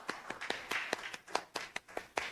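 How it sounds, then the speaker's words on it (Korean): A church congregation at a New Year's Eve service claps in thanks, a loose run of sharp hand claps in an uneven rhythm, fairly close and without talk. "우리 하나님께 감사의 박수를 드립시다"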